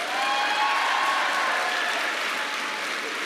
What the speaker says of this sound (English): Micah, would you just give him a round of applause?